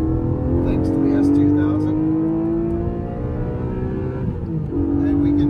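Porsche GTS engine while driving, a strong sustained drone with rising and falling tones as the revs change, close and loud.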